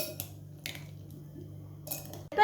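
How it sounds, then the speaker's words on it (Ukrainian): A tomato and brynza salad with chopped greens, dressed with oil, being gently tossed in a bowl: a few soft, brief clinks and scrapes of utensils over a quiet background, with no talking. "До нарізаних продуктів викладаю зелень, заправляю салат олією і обережно перемішую"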